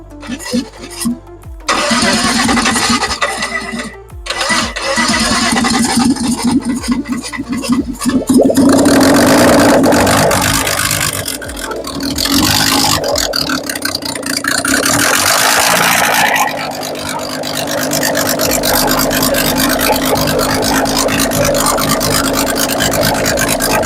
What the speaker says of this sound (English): We managed to get the engine started